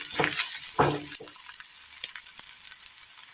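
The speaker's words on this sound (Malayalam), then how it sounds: "ഈ ബാലൻസ് വന്ന ഈ എണ്ണയിലേക്ക് അവിലൽപ്പം ഇട്ട് കൊടുത്തൊന്ന് വറുത്തെടുക്കാം" Flattened rice (aval) dropped into leftover hot oil in a pan and fried for a sweet snack: a couple of loud scraping stirs at first, then a lighter steady sizzle with scattered crackles, close by.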